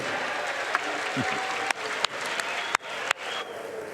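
House members on the chamber floor burst into sustained applause after the GOP tax bill passes, dense clapping broken by a few sharp knocks, with faint voices underneath.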